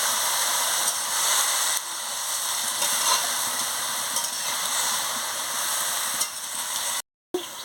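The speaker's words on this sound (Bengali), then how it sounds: "হলুদের গুঁড়োটা দিয়ে দিচ্ছি, দিয়ে ভালো করে আনাজটাকে কষিয়ে নিচ্ছি" Cabbage, sweet potato and eggplant frying with turmeric and salt as they are stirred in a pan, a steady loud hiss and sizzle that breaks off briefly near the end.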